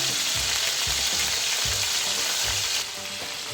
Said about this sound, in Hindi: मीडियम फ्लेम पर हमारे जो फिश है मछली है उसका एक साइड बहुत अच्छे से फ्राई हो चुका है